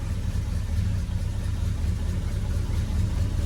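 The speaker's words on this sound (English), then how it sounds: "So the blower is on." In a 1968 Buick Electra, the heater blower fan runs as a steady, even whoosh under a low engine rumble, close and constant, with no speech.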